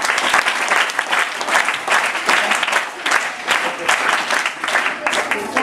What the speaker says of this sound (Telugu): Very good. క్లాప్స్ అండి